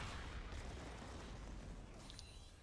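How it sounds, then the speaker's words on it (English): A rocket fired by Jinx in a League of Legends ranked match, bursting with a fireworks effect: a dense, rumbling boom that fills the short span, followed by a few faint sparkling crackles near the end, with no talk. "Jinx lets off a preemptive rocket. wow, that's a cool fireworks thing."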